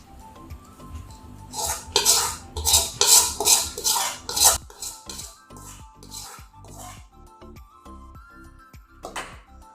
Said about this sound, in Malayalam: ഇനി നമുക്കിത് നന്നായിട്ട് മിക്സ് ചെയ്തെടുക്കണം